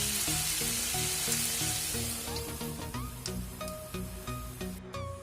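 A chicken and taro curry sizzles and bubbles steadily in a pan, with a busy, close frying hiss and clinks of a spoon stirring against the pan.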